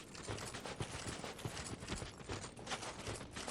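Horse hooves clip-clop in the video game Dark Souls II: Scholar of the First Sin, a steady rapid patter of hoofbeats heard faintly under a dense, noisy game soundscape.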